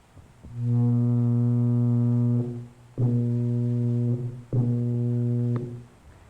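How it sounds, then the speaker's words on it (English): A steady electric buzz from an ordinary household lamp flickering 120 times a second, picked up by a photocell and played through a loudspeaker, in three sustained bursts with short gaps, loud and harmonic like a drone. "What you were hearing was the light going on and off 120 times a second."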